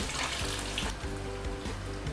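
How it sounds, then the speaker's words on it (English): Tofu sizzles and crackles steadily as it deep-fries in hot oil, a loud continuous frying hiss with no voices. "it's that simple frying a tofu"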